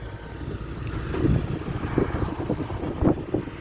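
A dump truck engine revs hard at full throttle, a steady low rumble with several surging pulses, close and loud with wind noise, no voices.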